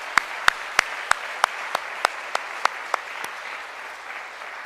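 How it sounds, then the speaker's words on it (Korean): A Korean church congregation claps together during a service. About a dozen sharp, evenly spaced claps sound over a steady crowd murmur, fading toward the end. "축하하면서 우리 한번 박수하겠습니다"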